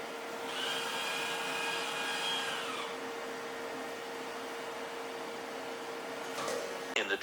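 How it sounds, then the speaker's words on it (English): JK86-B cup-lid machine running with a steady mechanical whir and a higher motor whine that cuts off partway, then a low hum continues and a short clatter sounds near the end as a lid drops. "The machine will drop a cup lid."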